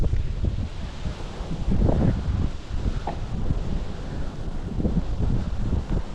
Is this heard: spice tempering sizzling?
no